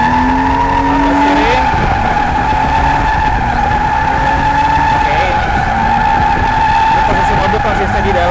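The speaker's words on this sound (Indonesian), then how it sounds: "perhatikan cara throttle-nya" Car drifting in tight donuts under throttle, tires squealing loudly and continuously over a revving engine for several seconds, heard close and steady with no pause.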